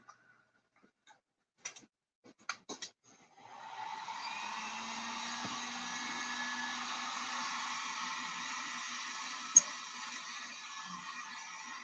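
A few scattered clicks and handling taps, then a hair dryer starts and blows steadily for several seconds while drying cracking paste on a steampunk craft bottle, with one sharp tick partway through.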